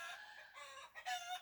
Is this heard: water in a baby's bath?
no